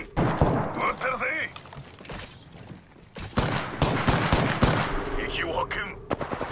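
Rapid bursts of gunfire from the video game Apex Legends, played on PS4, crack out in loud, uneven volleys and scattered single shots, with in-game character voices speaking between and over them.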